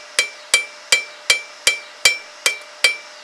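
A cross peen hammer strikes file teeth in a steady, evenly spaced series of about nine sharp, ringing metallic blows, close and loud with no talking.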